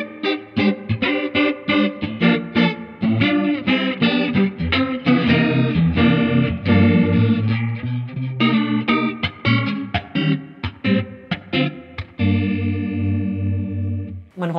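An electric guitar played through a Laney Lionheart Foundry amp with a chorus effect rings out in shimmering, warbling chords and single notes, loud and continuous with no talk.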